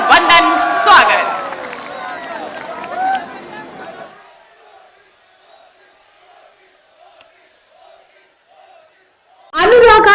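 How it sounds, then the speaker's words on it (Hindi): A large crowd at a public rally in Mahoba, Uttar Pradesh cheers and shouts loudly in welcome, fading to quiet murmurs before the noise bursts back at the end. "एक बार जोरदार तालियों के साथ अभिनंदन, वंदन, स्वागत।"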